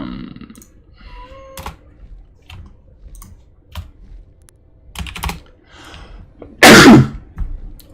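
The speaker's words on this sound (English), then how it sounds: "I sneeze." One loud, close sneeze bursts out near the end, surrounded by scattered clicks of computer keyboard typing in an otherwise quiet room.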